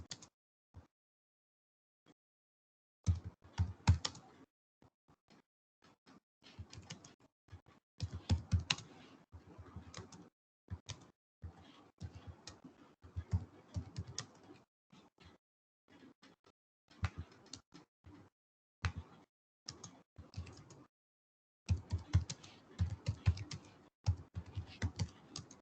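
Typing on a computer keyboard, close, in irregular bursts of rapid key clicks separated by short silent pauses, with no talk.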